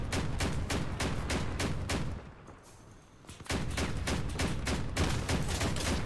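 Whirlwind cannons fire in the vehicle combat game Crossout as a rapid string of sharp, loud blasts that pause briefly midway and then resume at the same quick pace.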